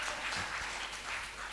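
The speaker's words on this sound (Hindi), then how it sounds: "तालियां बजाइए।" Audience clapping at an evening of music and poetry, a dense, steady wash of many hands at moderate distance lasting the whole moment, with no voices over it.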